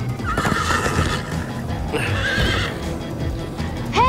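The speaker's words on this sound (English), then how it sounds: "Grab a horse. Slow down, horse!" A loud horse whinny rings out over rapid hoofbeats in the video game Minecraft Story Mode, with a second shorter neigh near the end; the galloping stays busy throughout.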